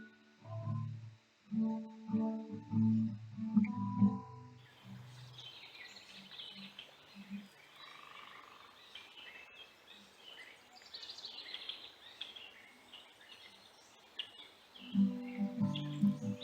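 Faint high bird chirps and twittering drift in from a distance at feeders in Walnut Woods State Park, soft and scattered, between stretches of low rumbling near the start and end.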